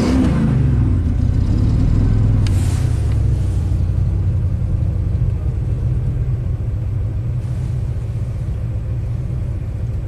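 A rebuilt Ford big block engine with a hard-start problem, a loud, close rumbling idle with a brief throttle snap near the start and a steady low drone afterward.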